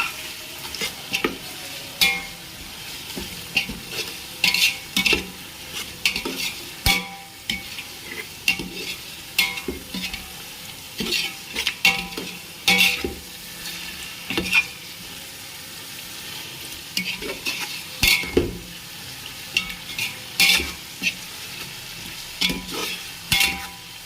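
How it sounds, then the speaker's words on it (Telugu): Chicken for nati masala chicken biryani is stirred in a hot pot, a steady sizzle broken by repeated scraping stirs and clatters at an irregular rhythm, close and fairly loud with no talk. "ఇందులోకి చికెన్ వేసుకుందాం. చికెన్ వేసుకున్నాను, కలుపుకుందాం."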